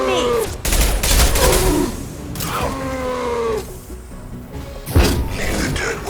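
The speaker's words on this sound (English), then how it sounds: "Stop shooting me!" Gunfire and impacts in the sci-fi shooter Mass Effect Legendary Edition, heavy bursts and thuds scattered through a loud battle mix, with game voices and effects over it.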